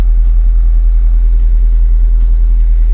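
A 2003 MG TF engine idles at close range, a loud steady low rumble with even pulsing and no change in pace.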